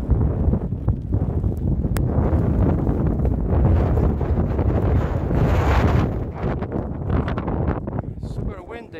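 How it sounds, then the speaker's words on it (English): Strong wind gusts batter the microphone on a misty, rainy hill along the Southern Upland Way, a loud continuous roaring rumble throughout that eases slightly in the last few seconds. "Super windy."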